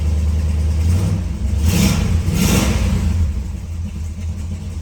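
A 1968 Dodge Super Bee's 383 Magnum V8 engine, rated 335 horsepower, revs up twice in quick bursts over a steady low rumble, close and loud.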